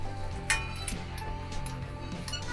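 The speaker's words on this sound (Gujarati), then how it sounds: "આપણે તેલ ગરમ કરવા મૂકી દીધું છે। જીરું નાખીશું, હિંગ નાખીશું" Cumin seeds and asafoetida sizzle in hot oil, giving a steady close crackling hiss, with a single light metallic clink near the start and soft utensil taps throughout.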